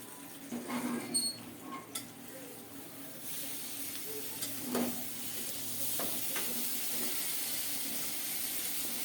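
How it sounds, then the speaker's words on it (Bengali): Two fish paturi fry in a little mustard oil in a wok, giving a steady close sizzle and hiss with a few soft scraping stirs early on. "কড়াইতে অল্প করে সরিষার তেল দিয়ে তেলটাকে একটু ছড়িয়ে দিলাম পাতুরি দুইটা বসিয়ে দিচ্ছি"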